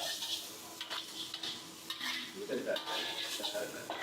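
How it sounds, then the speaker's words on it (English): Tempeh being stirred in a frying pan for a vegan Malaysian dish, a utensil scraping and clinking against the pan over a continuous close sizzle. "Add in tempeh. And then give a good stir."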